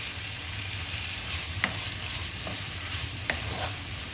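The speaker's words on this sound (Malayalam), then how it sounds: "ഇനി നമുക്ക് തക്കാളി ഈ മസാലയും എല്ലാം കൂടി നന്നായിട്ട് യോജിപ്പിച്ചതിന് ശേഷം നമുക്കിത് നന്നായിട്ട് തക്കാളി ഒന്ന് ഉടച്ചെടുക്കണം" Tomato masala for a party-style chicken roast sizzles steadily in a pan while being stirred, with a couple of sharp scrapes of the spoon against the pan over a continuous frying hiss.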